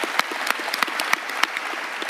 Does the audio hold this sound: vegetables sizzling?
no